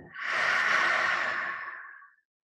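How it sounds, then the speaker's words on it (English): A long, audible breath is pushed out through the mouth during a breathing exercise, a soft airy whoosh that swells quickly, holds for about two seconds and tapers away, close and alone. "exhaling through the mouth."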